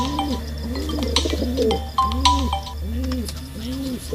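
Several pigeons coo in repeated rounded phrases, close by, with faint chirps and a steady low background hum.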